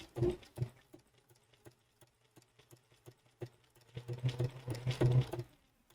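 A Bernina sewing machine with a #86 ruffler foot stitches in short, uneven runs of quick mechanical whirring and ticking, with quiet gaps between bursts, close and fairly soft.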